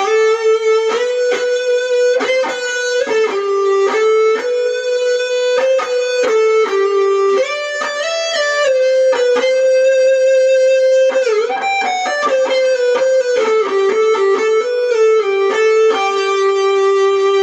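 Clean, bright electric guitar lead through drive pedals, set up as a church tone, playing sustained melodic notes and bends up close and loud with no talking.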